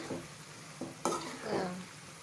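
Ingredients for a broad beans karam frying in a pan, a soft sizzle with a few stirring scrapes and clinks of a utensil, quiet and close.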